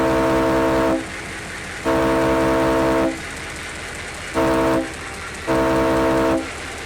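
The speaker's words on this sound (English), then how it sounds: "That sounds like a locomotive starting up." A locomotive at a Conrail museum in Shippensburg, Pennsylvania sounds loud, repeated tonal horn-like blasts with rumbling rail noise between them, close by and without talk.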